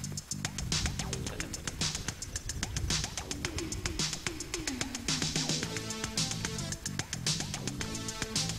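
Within The Forest video game, a bird coos and calls repeatedly amid a busy, dense game soundscape with loud music and steady background noise.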